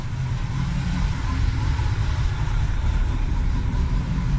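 A 1972 Ford F-350 Crew Cab engine idles just after a cold start, a steady low rumble that holds even and fairly loud throughout with no revving.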